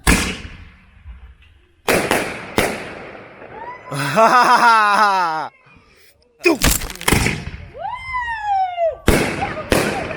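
Several loud New Year's firework launches from a cannon and their bursts, sharp booms spaced a second or two apart, with whistling streaks between them and people talking in the background.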